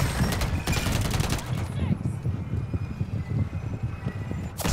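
Rapid automatic gunfire in the Call of Duty video game rattles in a dense burst at the start, then gives way to scattered softer shots and thumps with a voice speaking.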